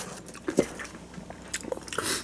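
Spicy mala roasted peanuts are bitten and crunched close to the microphone, with a few sharp crisp bites followed by softer chewing.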